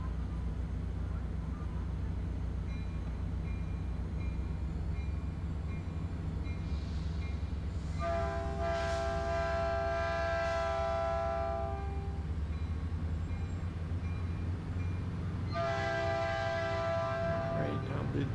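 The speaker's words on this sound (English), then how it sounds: "Right now the diesel train slowly creeps away from the station." A diesel Caltrain train rumbles steadily with low engine drone as it departs a station, then sounds two long horn blasts, one mid-clip and another near the end.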